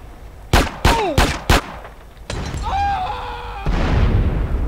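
Four sharp, loud shotgun blasts in GTA San Andreas fire in quick succession, followed by a heavier boom and a whining tone, then another loud crack with sustained background noise.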